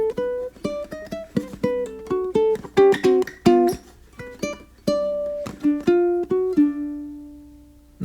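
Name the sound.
ukulele blues lick, pickup into first and second measure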